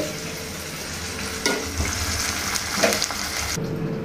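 Loud, steady sizzling of mint leaves and tamarind frying in a pan with stirring scrapes, cutting off abruptly near the end.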